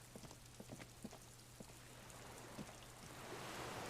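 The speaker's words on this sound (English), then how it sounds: "Well, it's raining, we know that much." Rain in the video game Disco Elysium: a soft, steady patter of raindrops with scattered distinct drips early on, growing into a denser hiss toward the end, fairly quiet, with no speech.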